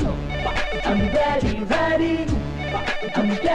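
A telephone rings in repeated melodic bursts, loud and close, with no voices over it.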